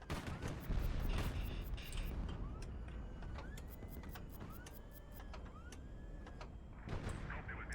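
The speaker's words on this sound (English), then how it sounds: "Dodge his 57mm fire" Naval 57mm cannon fire in the airship combat game HighFleet, a quiet run of repeated sharp bursts and impacts at a moderate distance over a low rumbling battle background.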